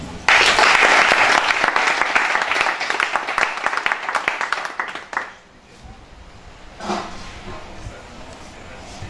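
Honouring the FC Zoman football team after its promotion to D3, a gathered crowd applauds loudly for about five seconds before the clapping fades out and quieter sounds and speech follow.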